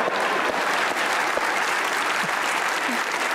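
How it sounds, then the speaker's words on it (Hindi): A studio audience at a comedy talk show claps in a steady wash of applause that fills the whole stretch without fading, with no talk over it. "इनके लिए एक बार तालियां हो जाए।"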